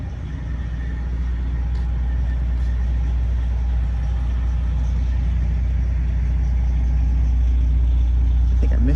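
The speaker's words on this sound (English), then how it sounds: "Dual exhaust on it, of course, and that sounds really nice." A 1967 Chevrolet Chevelle with a 454 V8, four-speed and dual exhaust runs steadily at idle, a deep continuous rumble close by that holds an even level throughout.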